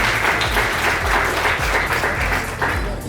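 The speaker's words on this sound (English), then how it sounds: "Applause to Tanishka" Loud, dense applause from an audience at a graduation celebration, honouring graduate Tanishka; a continuous roar of clapping with a few brief surges, close and sustained throughout.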